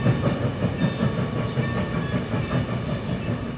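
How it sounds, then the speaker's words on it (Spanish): Military trains roll along a railway near San Martín Texmelucan, a loud, steady rumble with rhythmic clattering wheels and a faint hiss running throughout. "Los trenes militares se detenían"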